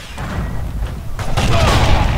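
An S-mine goes off in the World War II shooter Forgotten Hope 2 at Pegasus Bridge. The loud, close blast swells into a rumbling boom under other battle noise, with a voice faintly present.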